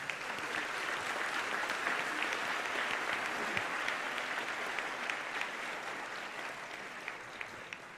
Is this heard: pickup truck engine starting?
no